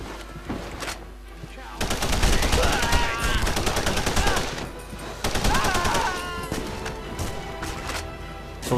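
Rapid gunfire bursts from The Punisher video game, loud and dense from about two seconds on, with a brief dip near five seconds before the shooting resumes; no words are spoken.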